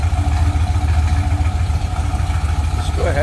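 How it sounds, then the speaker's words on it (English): A 1963 Chevrolet K-10 4x4 truck idles with a steady, loud, low rumble and a pulsing exhaust beat that runs unbroken throughout. "Nice sounding truck. Slip around to the back, you hear that rumble."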